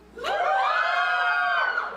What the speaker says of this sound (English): someone screamed